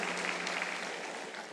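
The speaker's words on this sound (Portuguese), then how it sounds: "Aplauda o Senhor por essa palavra" A church congregation applauds during a sermon, a faint, continuous wash of clapping heard at a distance, with no break across its brief length.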